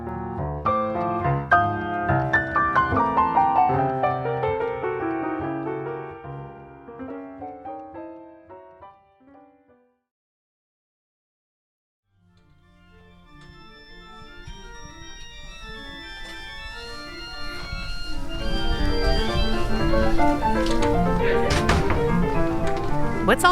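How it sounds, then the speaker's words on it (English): Music students practicing in Duke University's Biddle Music Building, Durham: overlapping piano and instrument playing from nearby rooms, then a brief near-silence, then a denser, fuller wash of mixed practice sounds. "That's the sound of Biddle Music Building on the campus of Duke University here in Durham"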